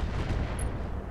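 Mech weapons firing in the video game Roguetech BattleTech; a continuous loud rumbling barrage of dense booming impacts and gunfire for about a second, no talk.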